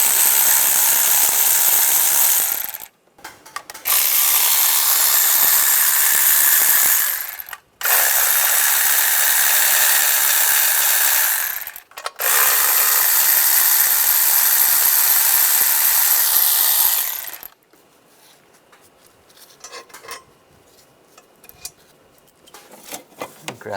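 A ratchet spins a nut off a 1996-2002 Toyota 4Runner valve cover, three long bursts of rapid clicking broken by brief pauses, close and loud, then quiet handling noise afterward.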